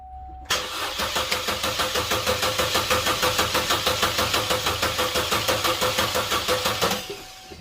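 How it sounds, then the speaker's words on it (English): A Chevy Cruze engine, just back together after a timing job, cranks over with a fast, even chugging of the starter for several seconds. The rhythmic churning is loud and close, then stops abruptly. "we're gonna give this thing a crank"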